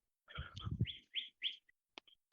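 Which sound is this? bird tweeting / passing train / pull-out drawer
bird tweeting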